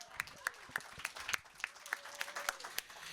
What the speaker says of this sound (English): That deserves a round of applause, too.